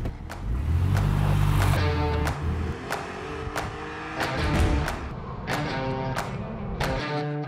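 A 2002 Porsche 911 996 drives, its engine rising and falling loudly through revs with shifts between gears, heard close from inside the car.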